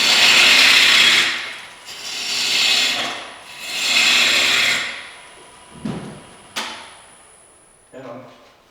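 A woodturning tool cuts wood on a spinning lathe, making three swelling, hissing passes. Quieter scrapes and taps follow, all over a thin, constant machine whine.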